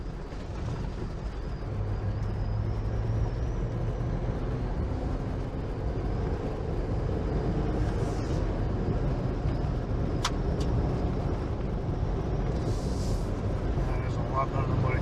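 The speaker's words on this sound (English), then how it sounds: "What you're hearing is just hard top noise." Steady broadband road and wind noise inside a 2022 Jeep High Tide with a hard top while driving, a constant low rumble with a faint whistle and occasional rattles.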